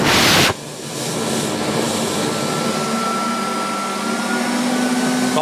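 An AEG Vampyr 433 bagged vacuum cleaner, freshly refurbished, runs on its low setting while suction is tested at the hose, giving a steady close whirring drone with a faint whine after a brief louder burst at the start.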